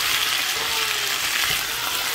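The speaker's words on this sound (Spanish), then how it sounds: "apenas las estoy friendo" Steady hiss and crackle of potatoes sizzling in hot oil in a pan, continuous and close, with no talking.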